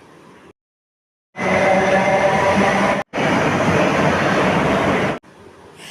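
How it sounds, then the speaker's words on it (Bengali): A metro train at Tollygunge station platform, a loud sustained rumble of the train running in, cut by a brief break, then fading out. "উল্টো দিকের প্ল্যাটফর্মেও একটা মেট্রো চলে এসেছে"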